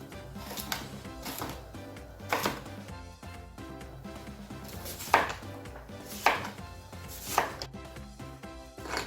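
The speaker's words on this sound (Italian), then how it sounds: "poi taglio delle listarelle da cui vado a ricavare i cubetti" A kitchen knife chops vegetables into small cubes on a cutting board for a homemade ragù, giving irregular crisp thuds in quick bursts, close and clear with no voices.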